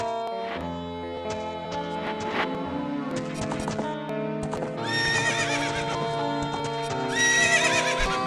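Epona the horse from Zelda: Ocarina of Time whinnies and neighs in a bright game sound effect, with clip-clopping hooves and layered musical tones, a repeated high whinny rising near the end.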